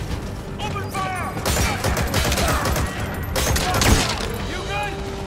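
Rapid gunfire crackles in Metal Gear Solid V: The Phantom Pain during a platform retake, with sustained bursts of shots and explosive booms while soldiers' voices shout over the fight.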